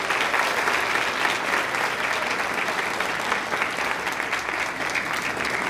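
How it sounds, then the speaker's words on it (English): Sustained, loud applause from an audience at a nursing pinning ceremony, a thick steady wash of clapping hands filling the room without pause. "let's give them a round of applause as they made this possible"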